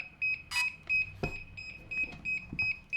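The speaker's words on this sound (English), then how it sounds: "It just kept beeping, beeping, beeping" Short, high-pitched electronic beeps from a DJI Mini 2 smart controller linking to the drone repeat in a steady, insistent pattern, close and clear, with a few soft clicks between them.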